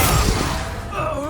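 A Confringo fire spell blasts in the video game Hogwarts Legacy, a dense rumbling burst spread across the full clip with a crackling, fusillade-like texture under a shouting voice.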